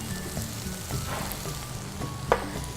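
Eggplant frying on high heat in a pan with vegetables, salt and pepper, giving a steady close sizzle with soft stirring scrapes and one sharp clink near the end.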